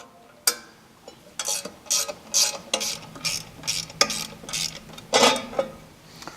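A 7/16 wrench ratchets on access cover bolts of a Hold-Tite shoe assembly: a sharp metallic clank, then a run of quick, close clicking bursts in irregular rhythm.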